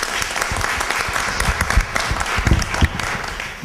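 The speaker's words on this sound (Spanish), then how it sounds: "Un aplauso a la licenciada." A brief round of clapping from the audience at a Secretaría de Educación forum in Chihuahua, moderately loud and fairly sparse, with individual claps standing out through the few-second burst.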